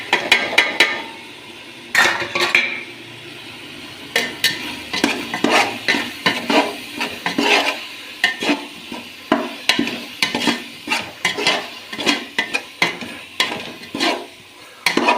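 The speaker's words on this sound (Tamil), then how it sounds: "மசாலா போட்டு நல்லா வதக்கியாச்சு." Tomatoes sautéing in a pan with biryani masala, chicken masala and chilli powder for chicken biryani, heard as repeated sharp scraping and clattering stirring strokes over a steady low sizzle, fairly close, with no talk.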